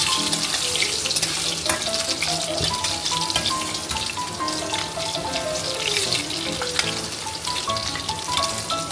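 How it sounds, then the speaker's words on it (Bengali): Potatoes frying lightly in a pan with cumin for a Katla fish curry, a continuous close sizzle and crackle throughout, with no one speaking. "আলুটাও আমরা হালকা ভেজে নেব।"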